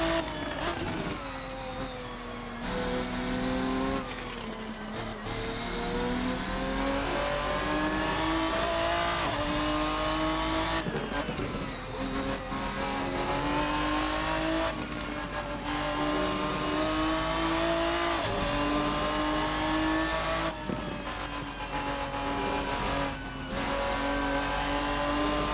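A Ferruccio 57 race car in a racing sim roars through sustained revs, its pitch climbing and dropping sharply at each gear change, loud and continuous with no talking.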